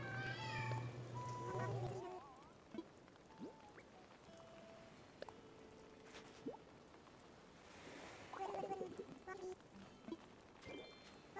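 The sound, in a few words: cat yowling in the background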